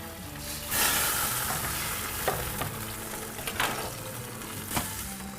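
Syrup poured over hot kadayif, Turkish shredded-pastry dessert, bursts into loud sizzling and crackling that fades slightly, with a few sharp clinks and pops.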